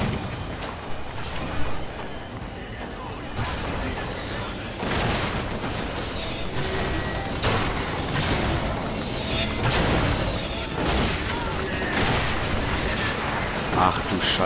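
Rocket explosions in the shooter Bioshock Infinite: dense, continuous booming and crackling blasts with gunfire mixed in, loud and sustained, and a voice talks over the chaos.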